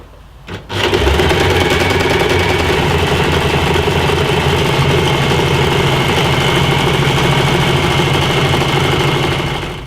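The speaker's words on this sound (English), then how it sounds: "I suggest that you stitch it once using a zigzag stitch and then stitch it again with a straight stitch" A sewing machine runs fast and loud right at hand, stitching beanbag fabric, first in zigzag and then in straight stitch, a steady whirring mechanical chatter that starts after a short pause and continues for nearly ten seconds.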